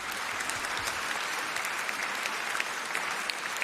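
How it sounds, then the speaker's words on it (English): An audience at an awards ceremony applauds the Kano State governor, a continuous, moderately loud patter of many hands clapping with no break throughout. "Let's clap for him"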